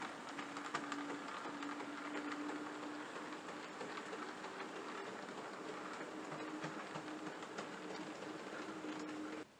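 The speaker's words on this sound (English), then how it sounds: "we've got one of our Beltline engines here pulling the train into view" An HO scale model train engine pulls freight cars along the track, producing a faint, steady motor whir with light clicking from the wheels running continuously before cutting off at the end.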